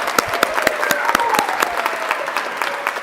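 A crowd at an adult and family education commencement claps for graduating students and award recipients, a dense, steady round of applause from many hands in an indoor hall, with no speech.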